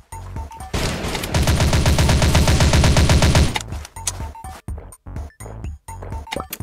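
Video game gunfire aimed at a snow globe comes as a loud, sustained rapid burst of shots lasting a few seconds, then gives way to scattered sharp single shots and clicks.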